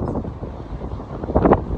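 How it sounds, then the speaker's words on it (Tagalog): Strong wind buffets the microphone in a steady low roar, gusting louder toward the end. "Ay, sobrang hangin!"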